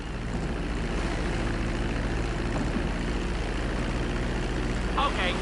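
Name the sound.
airplane taxiing on runway in a video game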